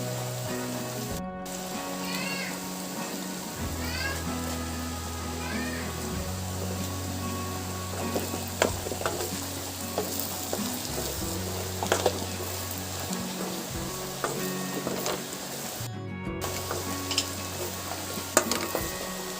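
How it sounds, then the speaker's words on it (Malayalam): Sautéed onions sizzle and fry in a pan with chili powder added for a Kerala-style prawn roast, a steady close crackle with occasional stirring scrapes and clinks throughout, no talking. "അപ്പം നമ്മുടെ ഉള്ളി ഒന്ന് വരട്ടിയെടുത്തിട്ടുണ്ട്. ഇതിലേക്ക് നമ്മളിനി മുളക് പൊടിയാണ് ഇട്ട് കൊടുക്കുന്നത്."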